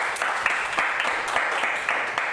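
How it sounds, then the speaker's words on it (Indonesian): Podcast audience applauding a guest's arrival, a dense, even burst of clapping at moderate loudness throughout, with no talk over it. "Boleh kasih tepuk tangan yang sangat luar biasa"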